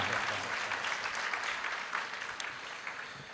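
A church congregation at an Ascension of the Lord Sunday Mass applauds in a steady, dense wash of clapping that stays fairly faint and distant, with no voices over it.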